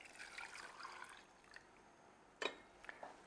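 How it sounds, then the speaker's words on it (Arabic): Water poured from a container onto dates in a bowl while making date bread, a soft, faint splashing trickle with a sharper splash near the end. "هبتدي أضيف عليه مي"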